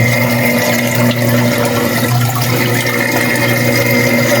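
An aquarium filter in a crayfish tank returns water in a loud, steady rush with a constant hum underneath, running unbroken and close by.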